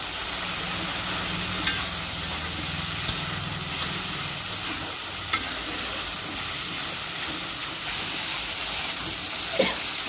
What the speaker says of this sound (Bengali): মশলাগুলো চিংড়ি মাছের সঙ্গে একটু কষিয়ে নিয়ে দিয়ে দেবো